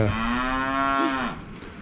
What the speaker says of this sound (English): the calves are bawling at me now.